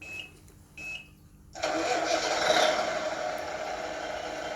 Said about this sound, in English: Okay, let's start the engine.